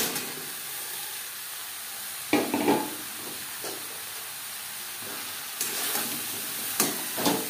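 Ridge gourd stir-frying in a cooked-down spice paste gives a soft steady sizzle, broken by a few louder bursts of stirring and hissing as the pieces are turned.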